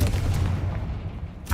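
A Confringo blasting curse in Hogwarts Legacy goes off as a heavy, low, rumbling explosion that fades and then thumps again briefly at the end.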